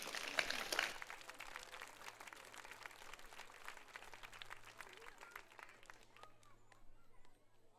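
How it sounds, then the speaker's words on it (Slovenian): A hall audience at a choir festival claps, loudest in the opening second, then settles into a quieter, steady patter of hands that fades toward the end. "Pa dajmo en velik aplavz za začetek"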